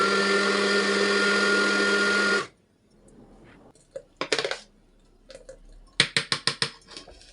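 A blender whirs steadily and loudly while it blends pasta with milk, then cuts off abruptly. Scattered clinks and taps of handling follow, ending in a quick run of sharp knocks.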